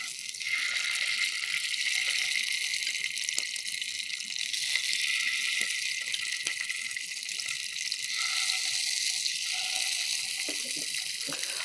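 Marinated fish fries in a hot pan, giving off a steady, bright sizzling hiss that continues evenly throughout.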